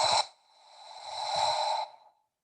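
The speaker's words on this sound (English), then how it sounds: "Exhale into your hands." A long, breathy exhale into cupped hands held over the face during a yin yoga session, one close, airy breath of about two seconds after a short intake, with nothing else heard.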